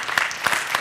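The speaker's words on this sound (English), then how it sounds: "There's a lot of clapping there" Audience clapping at a town planning board meeting, a brief patter of scattered hand claps in a room, close and mid-loud, lasting under a second.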